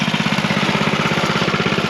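A dirt bike engine runs at a steady, close-up idle, with a fast, even pulsing throb and no voices.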